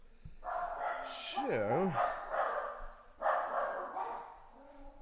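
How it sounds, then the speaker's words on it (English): Several household dogs bark and yip in the background, a run of rapid barks with a rising, wavering whine, while someone talks over them. "if you can hear that, that's my dogs."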